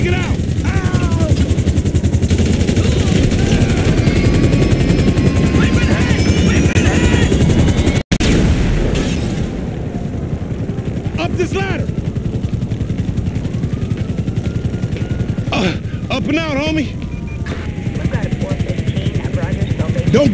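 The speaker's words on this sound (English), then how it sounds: "We ain't going nowhere with that chopper on us." A police helicopter in Grand Theft Auto V chases during a mission, its rotor chopping loudly and steadily throughout, under excited voices and sharp bursts of gunfire.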